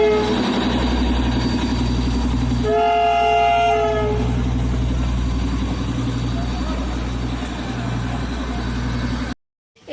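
Trains passing in Darjeeling, a loud close rumble and clatter of wheels with a long two-toned horn blast early on, continuing heavily until it cuts off near the end, with voices in the background.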